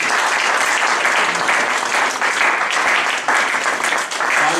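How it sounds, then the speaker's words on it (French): A church congregation applauds with dense, continuous clapping from many hands, loud and sustained throughout with slight dips in intensity, and no talk over it. "Est-ce qu'on peut acclamer la victoire de Jésus?"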